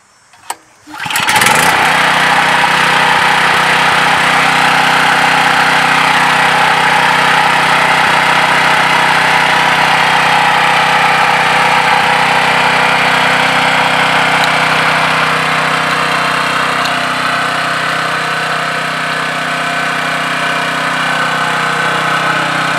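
A Caterpillar RP3600 portable generator is pulled to start, catches after a brief sputter and settles into a loud, steady, continuous engine drone heard up close.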